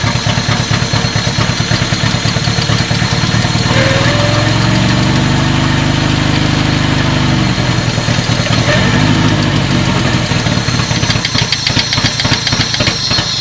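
A BMW E21 engine with sticking CIS fuel injectors, revived after over twenty years in a scrapyard, idles roughly and unevenly while missing on a couple of cylinders, with a loud, continuous uneven chugging and vibration close by.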